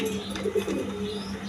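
Pigeons of a parrot-shaped grade breed cooing at a crowded farm, a few soft low coos standing out over steady background noise.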